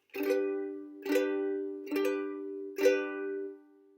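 A ukulele chord strummed four times at an even pace, each strum ringing out clearly before the next, no voices.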